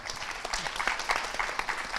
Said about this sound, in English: Can I ask the audience to join me to give a round of applause for our 4 speakers?